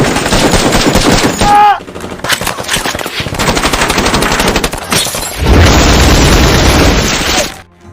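Gunfire erupts in a war film battle scene where a SWAT team is surrounded by ISIS fighters. Loud, rapid machine-gun bursts and heavy booms come in dense volleys, with one brief lull midway.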